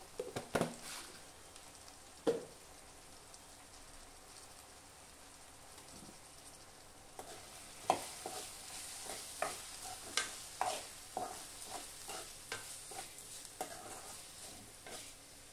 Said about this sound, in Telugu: ఇది పచ్చి వాసన పోయిందాక బాగా వాడ్చుకున్నాము